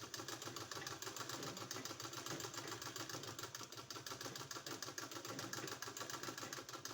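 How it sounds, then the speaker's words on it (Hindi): A sewing machine stitches along a kurti neckline, giving a steady, close mechanical whir with a fast, even stitching pulse that runs without a break and with no talking. "यहाँ पूरा सिलाई लगाना है।"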